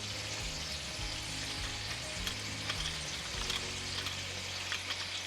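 Whole cinnamon, black cardamom, star anise and cloves sizzle steadily in hot oil for a chicken curry, a constant frying crackle with occasional stirring clatter and low thumps, close and alone without talk.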